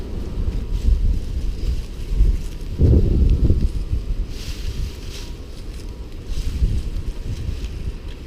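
Wind blows outdoors and buffets the microphone with a steady low rumble, gusting harder in a few surges. No one speaks.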